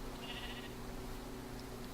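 A single sheep in the Minecraft video game lets out a short, faint bleat near the start, with quiet game ambience continuing underneath and no talking.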